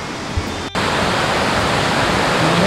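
A steady, dense roar of rushing water from the 85-metre Corbata Blanca waterfall in Argentina, heard close by, with a single brief dip partway through.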